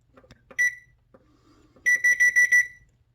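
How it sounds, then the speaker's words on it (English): An oven control panel set to 450 degrees gives off electronic beeps: a few soft key taps, one short beep, then a quick run of five loud, evenly spaced beeps as the timer is set. "So I'm gonna go ahead and set the timer."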